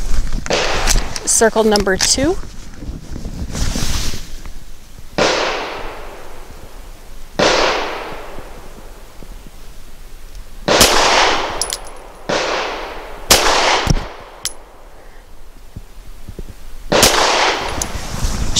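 Sig P365 XL pistol firing 85 grain frangible hollow point rounds at a shooting range: loud, sharp gunshots at uneven intervals, some close together, each with a short ringing tail, and a voice speaks between them.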